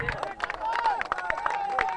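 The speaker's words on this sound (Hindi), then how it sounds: "जोरदार तालियां" Cricket crowd clapping and cheering for a batsman reaching fifty at a local Premier League match, steady applause and crowd noise under a commentator's voice throughout.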